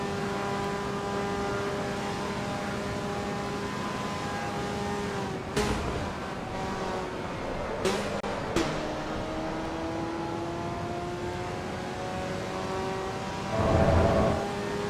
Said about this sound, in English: The engine gear changes do sound a bit weird in this.